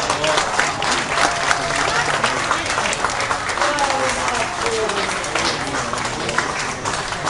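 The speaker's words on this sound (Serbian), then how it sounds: "ova priča zaslužuje još jedan gromoglasni aplauz" Loud, sustained applause from a crowd at the opening ceremony of an international youth tennis cup in Šid, dense clapping rolling on steadily, with some voices mixed in.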